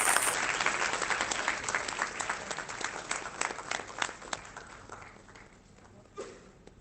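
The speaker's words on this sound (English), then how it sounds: "Please give us a very big round of applause." Audience applauding at the inauguration of an academic conference, a dense, steady wash of clapping that gradually thins and fades over several seconds, with a brief final burst of claps near the end.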